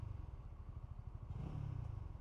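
A Honda Winner X motorcycle engine is revved with the throttle, its low, pulsing exhaust thrumming close and rising briefly in a short burst of revs.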